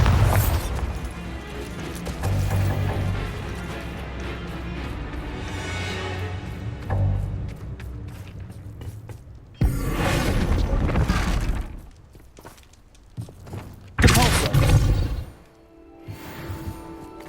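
Several Bombarda blasting spells detonate in Hogwarts Legacy, each a loud shattering crash with breaking debris, separated by rumbling lulls, with the strongest bursts near the middle and toward the end.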